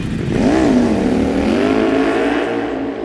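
A loud Ducati Panigale V4 S superbike engine on a race track revs and pitches up, then settles into a steady high drone, continuous and close.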